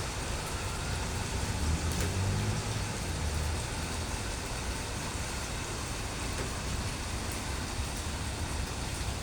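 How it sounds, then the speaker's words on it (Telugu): Heavy rain pours down steadily in a dense, unbroken hiss of falling drops, loud and continuous for the whole stretch with no voices. "ఈ వర్షం చూసారా ఎలా కొడుతుందో"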